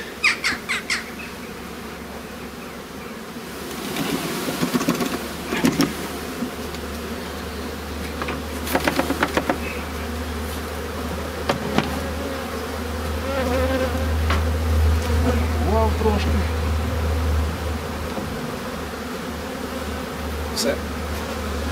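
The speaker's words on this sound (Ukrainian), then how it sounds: "Ось такий ройок." A honey bee swarm hums steadily throughout, a dense buzzing drone with scattered louder passes of individual bees near the microphone, while a few faint bird squawks break in now and then.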